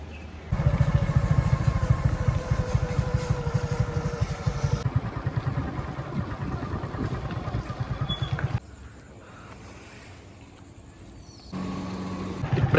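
A motorcycle engine runs nearby, loud and rumbling at first, then dropping to a quieter level before swelling again toward the end.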